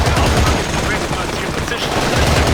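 Loud, continuous medium machine gun fire in Battlefield 2: Modern Combat, a dense rapid stream of close shots filling the whole moment without pause.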